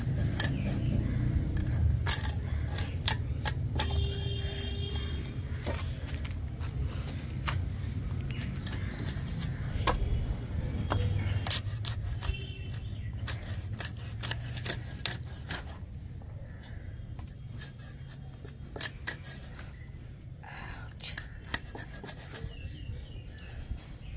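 A knife cuts the head off a fresh bhetki fish with repeated sharp crunching and scraping strokes, close and busy at first and then sparser, over a low background murmur.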